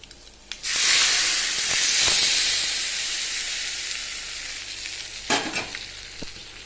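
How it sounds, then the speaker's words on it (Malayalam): Hot tempering poured into a rasakalan curry bursts into a loud, sudden sizzle that slowly fades over several seconds, with a couple of spoon clinks and stirring sounds near the end; no talking. "താളിപ്പ് നമുക്ക് ഈ കറിയിലേക്ക് ഒഴിച്ച് കൊടുക്കാം."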